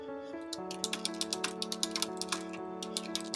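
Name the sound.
typing on a computer keyboard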